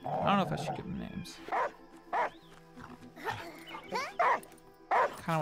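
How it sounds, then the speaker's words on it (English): Dog barks and yips alongside whimpering in the adventure game Last Day of June, short bursts recurring through the clip, with someone talking over it. "Kind of want to call this dog Schwartz"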